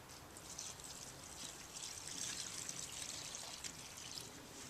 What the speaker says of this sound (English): I'm just going to add the soda ash solution right into the dye solution at this point